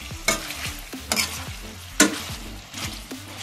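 Onion sautéing in a pan for beef kavurma, a sizzling hiss punctuated by rhythmic scraping stirs and utensil knocks roughly every second, close and clear, with no talking.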